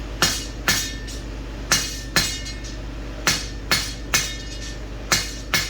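A hammer strikes heated 1/2-inch square solid steel gate pickets during induction forging, about ten sharp ringing blows in an uneven rhythm over a steady low hum, close and loud.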